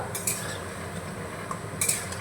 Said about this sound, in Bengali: এবার আমি উল্টে নেব বড়াগুলো